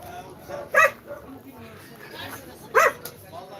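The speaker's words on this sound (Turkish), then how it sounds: "Bir de şu köpekleri göstereyim." Dogs in a Turkish German shepherd setting give two sharp, close barks about two seconds apart, over quiet background murmur.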